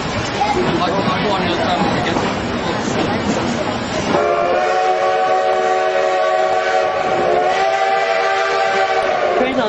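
A train on the Durango and Silverton railroad rumbles past up close over switch track, then a loud sustained whistle blares for several seconds over the clatter of the cars.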